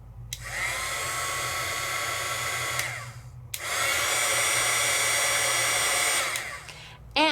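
A Sizzix two-speed heat tool blows hot air for embossing powder, producing a loud, steady, hair-dryer-like whoosh in two long runs with a short break between them. It clicks off at the end.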